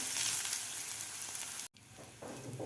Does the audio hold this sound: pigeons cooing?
no